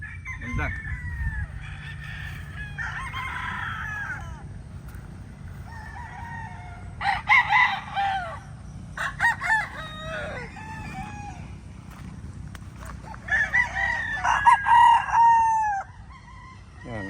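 Young roosters about six months old crow repeatedly on a farm, three distinct bursts of crowing at moderate distance over a steady low background hum, with some clucking between.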